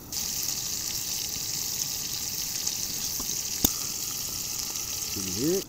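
Loud, steady sizzling and spitting of a pork chop frying in hot butter in a cast iron pan, with a brief clink partway through.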